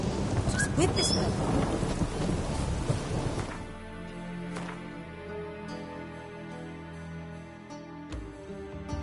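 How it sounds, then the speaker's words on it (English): Steady rain pours heavily at first, then eases into a softer patter with distant rumbles of thunder underneath. "I like rain."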